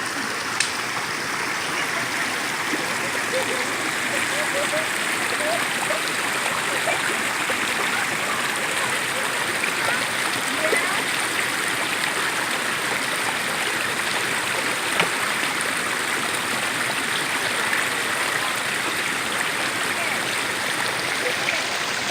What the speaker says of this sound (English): I imagine you can hear this creek running.